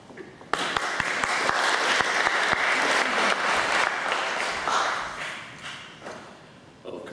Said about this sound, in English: why don't we give them all a round of applause once more